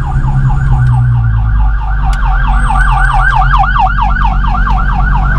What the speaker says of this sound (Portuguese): agora a ambulância tá vindo aí, ó